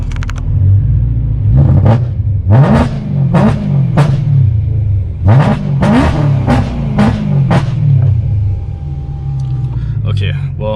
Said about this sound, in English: so I'm gonna do a rev